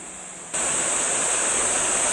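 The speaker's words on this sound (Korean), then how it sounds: "내장산의 짙은 녹음과 이 개울물의 소리가 저희를 반겨주고 있습니다" A mountain stream in Naejangsan forest babbles along, a constant bright rush of flowing water that begins abruptly and stays even and close.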